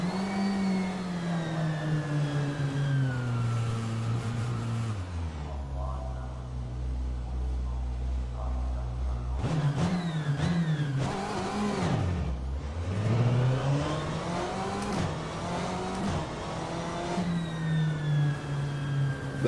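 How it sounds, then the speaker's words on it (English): Race car engine in the rFactor 2 endurance racing sim, droning steadily with rising and falling revs, a lower throttle-off stretch in the middle and a sharp dip and recovery near the end, loud and continuous throughout. "That throttle off sound is very interesting."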